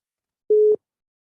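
A single telephone ringing tone during a call, one steady electronic beep lasting about a quarter second, clear and close against silence.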